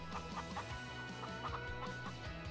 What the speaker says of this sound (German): Hier laufen die ganze Zeit die Hühner rum.